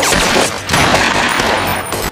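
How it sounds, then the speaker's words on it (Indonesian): Dense, rapid gunfire fills a film shootout between police and a criminal gang, with overlapping bursts and crashes that stay loud and continuous throughout. "Di sana akhirnya terjadi tembak-tembakan antara polisi dan kelompok penjahat"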